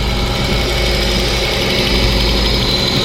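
An Audi S6 engine idles steadily up close, a continuous mid-low rumble with a faint vibration and no talk over it; the engine has a lean-running condition.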